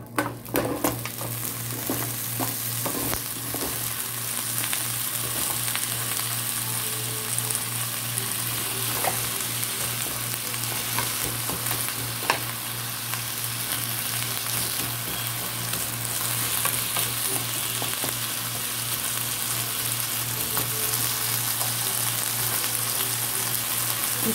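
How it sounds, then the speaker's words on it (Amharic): Sweet potato fries in hot oil in a pan, giving a continuous close sizzle and crackle with occasional sharp pops, no talking. "አሁን እየተጠበሰ ነው ጁስ ያለው ይሄ ስኳር ድንች ነው"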